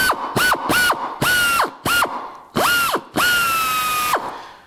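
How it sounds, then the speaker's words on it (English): A power drill bores out the head of a bad rivet in sheet metal, running in seven short bursts whose whine revs up, holds, and drops away, the last burst the longest; close and loud, with no talk. "Notice I'm doing quite a bit of steering on that drill"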